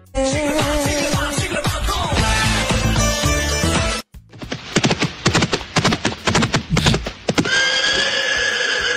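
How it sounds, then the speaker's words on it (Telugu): A horse whinnies loudly and at length, then hooves clip-clop in a quick uneven run of close, sharp strikes, followed by a long sustained neigh at the end. "గుర్రం నడుపుతుంది"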